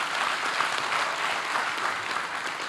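Audience applause in a hall, a dense, loud, steady roar of many hands clapping together without a break, heard on its own with no talk over it.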